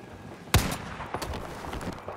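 A sniper rifle fires a headshot in a competitive team video game match: one sharp, loud shot rings out close, followed by fainter clatter and a few softer game effects.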